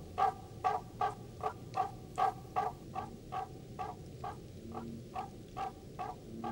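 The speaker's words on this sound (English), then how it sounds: "The explosive calls of the barking tree frogs sound like the yapping of small dogs." Barking tree frogs, large native tree frogs, give a chorus of explosive, dog-like yapping calls in a steady rhythm of about two per second, near and clear over a soft background hum, with no talking.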